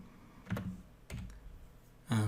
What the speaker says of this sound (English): So if I start typing console,